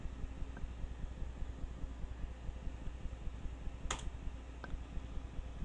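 Soft keystrokes tap a computer keyboard in a quick, regular stream while entering a number into an Excel spreadsheet, close and fairly quiet, with one sharper click near the end.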